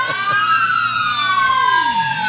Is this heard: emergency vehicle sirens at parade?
yes